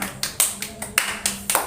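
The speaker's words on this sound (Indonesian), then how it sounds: "Tepuk tangan." Children clapping their hands in a classroom lesson, a run of about eight sharp claps in a fairly even rhythm, close and fairly loud with no talk.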